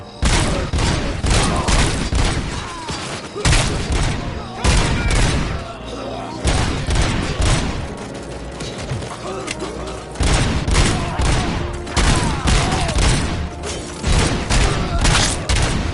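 Sustained gunfire crackles through a Robocop scene as dense, rapid volleys of loud shots and booms continue almost without pause, with shouting voices mixed in.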